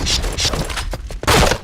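Rapid bursts of gunfire from a shooter video game, loud and dense, with shots overlapping in quick volleys through the whole stretch.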